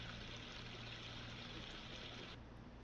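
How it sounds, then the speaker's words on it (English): Continuous rushing, splashing water from a geyser flowing steadily and fairly close, with no voices. "So you can hear all the water going."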